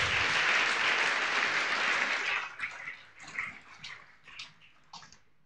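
A church congregation at a thanksgiving service claps loudly in a dense, continuous burst for about two seconds, then tapers into scattered, fading claps and a few faint voices.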